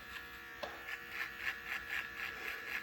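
Electric beard trimmer buzzing steadily while shaving hair off a neck, a close continuous hum with soft rhythmic swells as the blades pass over the skin.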